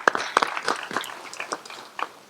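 Scattered hand claps from a board meeting audience, a sparse burst of applause with irregular, fairly close claps that thin out over a couple of seconds.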